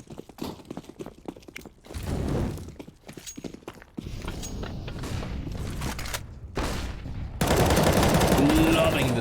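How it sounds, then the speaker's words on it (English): Rapid gunfire from an SMG in a Counter-Strike match, with clattering bursts, thumps and footsteps mixed into busy in-game noise, growing louder toward the end. "Native running and gunning, jumping around the corners, does find one"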